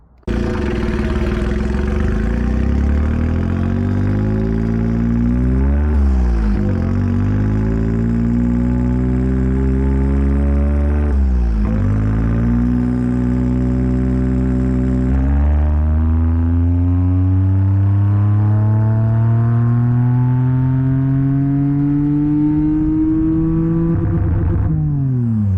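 A Honda Beat with an E07Z engine swap revs hard on a dyno, loud and close, its pitch climbing steadily through long pulls with brief drops between runs and a final sustained high-rev sweep.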